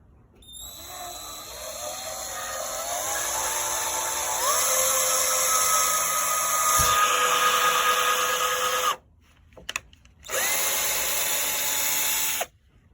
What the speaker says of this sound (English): So now we're getting the drill out, and we are just going to pre-drill a hole in.